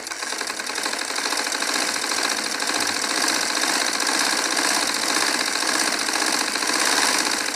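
A motor-driven home sewing machine runs steadily and loudly throughout, its fast mechanical whir and needle clatter continuous without pause.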